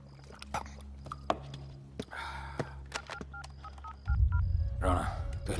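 Telephone keypad being dialed, a series of short DTMF beeps at irregular intervals with faint background talk, followed near the end by a louder burst of low rumbling noise.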